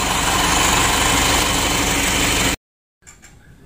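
An Isuzu Elf NKR 71 diesel engine runs while warming up, a loud, close, steady rumbling idle that cuts off abruptly, then a brief pause and faint low noise.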